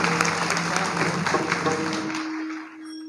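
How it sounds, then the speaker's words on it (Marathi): An audience at a kirtan applauds for the cymbal players, a dense crowd clapping that fades out after about two seconds, leaving a low steady hum. "टाळकऱ्यांसाठी एकदा सगळ्यांनी टाळी वाजवा"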